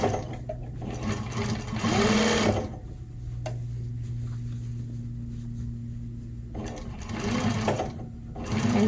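A sewing machine stitches a box cushion slipcover, its needle chattering in bursts at the start and near the end, with a quieter steady motor hum between runs.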